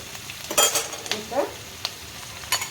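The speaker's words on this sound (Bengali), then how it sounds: "পেঁয়াজ কলিগুলো তেলের মধ্যে দিয়ে একটু ভালোভাবে নেড়ে নেবে নেড়ে নিয়ে এভাবে" Onion sprouts being stirred in hot oil for a winter vegetable and rohu fish curry, with a soft sizzle under a few sharp spatula scrapes and clinks against the pan, close and fairly quiet.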